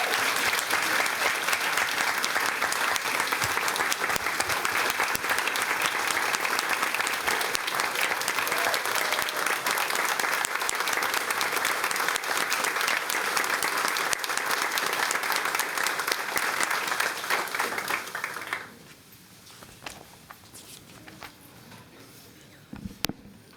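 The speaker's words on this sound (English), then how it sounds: "Now we can applaud." Sustained loud applause from the audience at an Arlington ISD board of trustees meeting after a vote carries, dense clapping that stops abruptly, leaving a quiet room.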